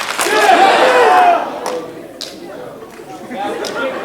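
A high school drama club audience shouts and cheers together in a loud group burst, which fades to scattered voices before a second, softer wave of cheering rises near the end.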